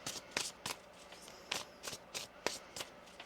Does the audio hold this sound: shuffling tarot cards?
yes